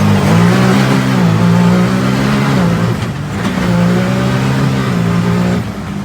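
A Can-Am Maverick off-road vehicle accelerates hard through tight sections of a trail, its engine a loud, steady roar that climbs in pitch, eases briefly, then rises again, heard close up without talk.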